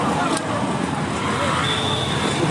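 Busy town road traffic with keke auto-rickshaws, cars and buses moving through a town in Abia State, a steady, continuous hum of engines and tyres close by, with voices mixed into the noise.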